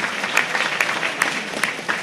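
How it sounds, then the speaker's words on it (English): Steady applause from an audience at a Harris County Republican Party quarterly executive committee meeting, dense and continuous clapping with a few sharper claps standing out, at close range throughout. "I think she deserves a round of applause for that"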